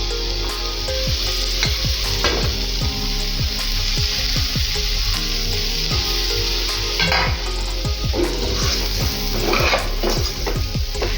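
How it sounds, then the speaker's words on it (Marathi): Stuffed Maharashtrian-style brinjal coated in spice paste sizzles loudly in a pan, with repeated scraping and stirring strokes of a spatula cutting through the constant frying hiss. "आता हे व्यवस्थित परतून घेऊया एक मिक्स करून घेऊयात"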